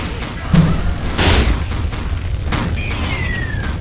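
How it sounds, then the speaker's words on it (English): A bomb goes off in the video game Rec Room, set off by a magic potion: a loud booming blast with a thudding impact and a burst of noise, followed by further rumbling and a whistling streak amid game sounds. "I set off the bomb with my potion!"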